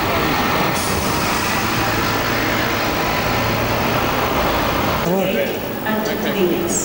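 A busy London street at King's Cross, with an open-top bus and heavy traffic rumbling close by. A hiss like an air brake comes near the end, and a voice talks over the noise throughout.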